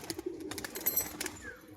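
A female pigeon and others coo softly and repeatedly, low and close, amid light fluttering and shuffling noises.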